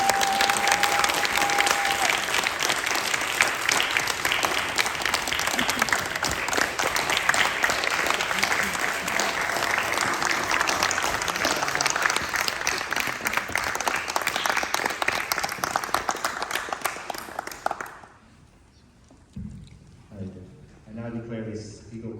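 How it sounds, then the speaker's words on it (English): Loud, sustained applause from an audience at an Eagle Scout Court of Honor, a dense wash of clapping lasting many seconds before abruptly dying away into scattered claps and quiet. "please give a round of applause to Jeb"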